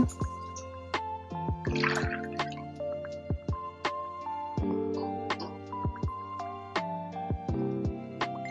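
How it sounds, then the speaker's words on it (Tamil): Water poured from a tumbler into a cooking pot on a stove, heard as a close, fairly quiet series of plopping drips and small splashes at an uneven rhythm, with no talking. "ஒரு டம்ளர் தண்ணி ஊற்றிக்கோங்க."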